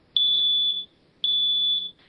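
A smoke alarm sounds two long, loud, shrill electronic beeps, each lasting about half a second, close by with silence between them.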